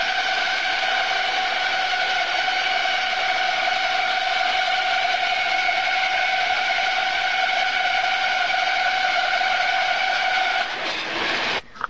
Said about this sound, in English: Here's my really cool ratcheting blade tensioning mechanism.